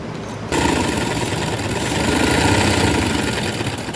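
Sewing machine stitching a Balochi frock: after a brief quiet start, a steady loud mechanical whir with a fast, even stitching hum runs on continuously, with no voices.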